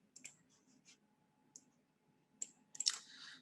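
A handful of sharp, quiet computer mouse clicks sit over a faint background hum, coming one at a time with pauses between and then bunching into a quick burst near the end.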